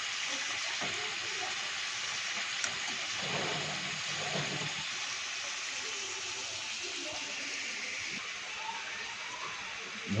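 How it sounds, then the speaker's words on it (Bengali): Fish sizzles and hisses in a pan over a fire at an outdoor picnic, a steady broadband frying noise running throughout, moderately close, with faint voices and clatter beneath it. "এখন হ্যান্ড ফিশ রান্না করছে।"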